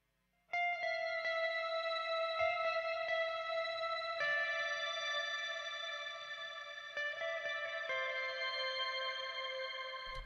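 Electric guitar noodling lead with effects, a series of bright picked notes ringing over one another with echo and chorus shimmer, sustained and fairly loud throughout, no talking.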